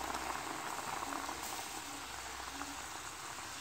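A cup of sugar melts in a pan on the stove, giving a dense, steady bubbling and sizzling hiss that holds evenly throughout with no talking.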